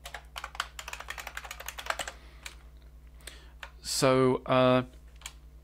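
Keys clatter on a computer keyboard in a rapid, uneven burst during the first two seconds, followed by a short pause and then two sustained tonal electronic tones; a voice speaks briefly.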